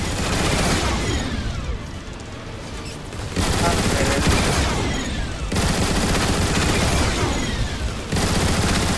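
Gun emplacement turrets blasting away in the video game Transformers: War for Cybertron, dense loud volleys of rapid fire rolling on continuously with short dips, layered with booming impacts.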